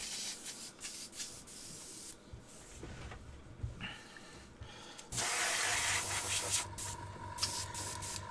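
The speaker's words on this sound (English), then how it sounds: "I've got a small metal bucket beside me that I spray that into" An airbrush sprays thinned paint and airbrush thinner into a small metal bucket during scale-model painting, with short hissing bursts early on, then a loud, steady, close-up spray hiss through the second half.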